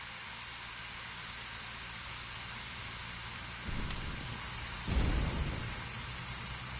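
Fire hose spraying water onto a blaze in the Emergency Fire Fighter Simulator video game: a steady broadband hissing rush that swells into two louder bursts near the end, heard alone without talk.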